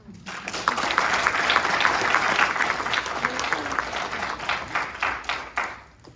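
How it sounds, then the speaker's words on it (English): University of Texas commencement audience giving themselves a round of applause: dense clapping from a large crowd with some voices mixed in, building quickly, holding steady, then fading out. "So give yourselves another round of applause"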